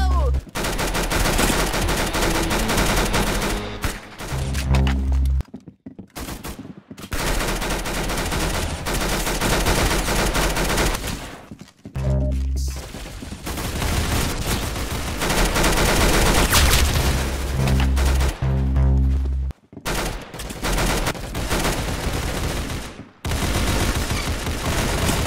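Rapid automatic gunfire and single shots in the Roblox shooter game Arsenal, loud bursts broken by short silent gaps, with a voice and game sounds briefly mixed in.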